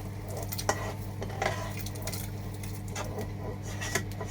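Soup ingredients for a quick solyanka tipped into a clay pot, with soft wet plops, clinks and scraping of utensil against crockery at close range.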